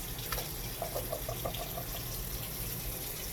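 Water is poured into an emptied bean can and swirled around, a faint trickling splash with a few brief bubbly gurgles over steady background hiss.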